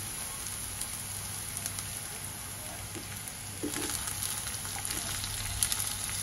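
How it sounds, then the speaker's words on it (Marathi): Vegetables sautéing in a pan over cooked onions for green prawn pulao, a steady soft frying hiss that grows slightly louder partway through with a few faint stirring taps, no talk. "आता आपण यावर आपल्या भाज्या आहेत ना त्या थोड्या परतून घेऊया."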